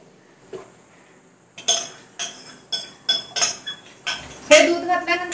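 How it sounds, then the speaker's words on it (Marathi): Milk blended with milk-powder milk being stirred in a pot for spiced masala milk, heard as a series of clinking spoon-against-metal scrapes and taps in a steady rhythm, close and fairly loud, with no talking. "हे दूध घातल्यानंतर पुन्हा एकदा चांगलं मिक्स करून घेऊया"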